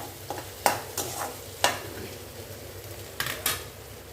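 A pan of onions and tomatoes sautés for paneer butter masala, with a soft background sizzle broken by several sharp scraping stirs of a utensil against the pan, close and without talk.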